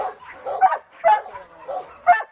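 A dog at a dog hotel gives several short yipping barks and whimpers in uneven bursts, fairly close and clear with nobody talking.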